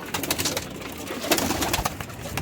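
Rampur pigeons, a male and female pair, cooing softly and repeatedly amid close, textured rustling background noise.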